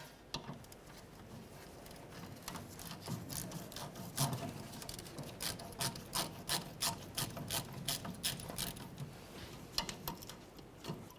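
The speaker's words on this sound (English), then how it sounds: "We'll loosen it up, move it out of the way, and then pull the hose off of the filler neck." A 10mm clamp being loosened and a fuel filler hose worked off the filler neck of a 2004-2015 Nissan Titan, quiet close-up clicks, taps and rubbing squeaks in an irregular series, with no talking.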